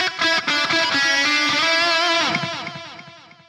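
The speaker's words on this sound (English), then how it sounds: "I've got a patch here with a load of delay on." A distorted electric guitar plays notes that smear into repeating delay echoes, then the echoes trail off and fade.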